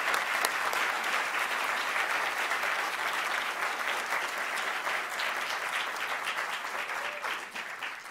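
Audience applause at a panel event on the high school dropout crisis, a broad, even patter of many hands clapping continuously for about eight seconds, tapering a little at the close.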